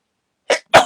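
Two short explosive bursts of a person sneezing indoors during a card-making session, the first slightly weaker and the second sharp and loud, separated by a brief pause.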